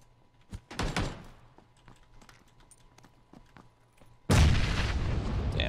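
Grenade in a video game: a few thuds and clattering knocks as it lands and bounces, then after a pause a sudden loud, broad explosion roar that carries on to the end, with no talk.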